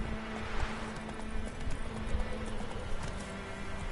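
Roach the horse gallops in The Witcher 3, and the rhythmic clip-clop of hooves pounds on steadily at a close, moderate loudness, with no voices over it.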